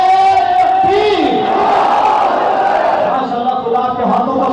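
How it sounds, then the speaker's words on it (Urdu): A large crowd at a religious gathering bellows a loud, unified response to the Takbir slogan, a sustained roar of many voices that swells and slowly fades over several seconds. "بلند آواز سے زوردار نعرے کا جواب دیجیے، ان کا استقبال کیجیے"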